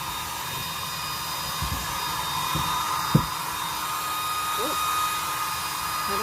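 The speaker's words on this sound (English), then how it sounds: "Gonna make this room extra hot with the blow dryer on." A handheld blow dryer runs steadily nearby while drying paint on an old wooden bread box, a constant whirring drone with a few faint knocks and bumps from handling.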